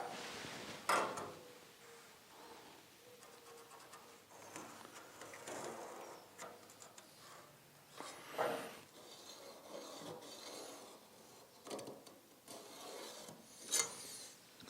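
Metal file rasping over the rusty lower fender of an old vehicle during repair, a series of irregular scraping strokes close up with brief pauses between them, no voices.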